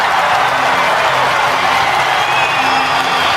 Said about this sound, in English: listen to the fans cheer